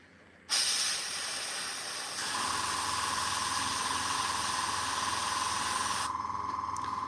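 An airbrush sprays paint onto a Warhammer miniature, switching on into a steady close hiss that shifts slightly partway through before cutting off, with no talking.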